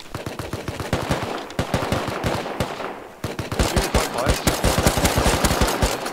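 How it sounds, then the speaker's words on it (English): Rapid automatic gunfire in the survival video game Rust, dense bursts of close shots with a brief pause midway before a second sustained burst, loud and steady throughout. "Can you shoot him, please?"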